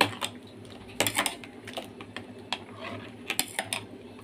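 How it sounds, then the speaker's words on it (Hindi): A spoon stirs roasted cumin and chilli flakes into a dahi phulki mixture, making scattered light clinks and taps against the bowl close by, with a faint kitchen hum underneath. "अब इन सारी चीज़ों को मिक्स कर लेंगे।"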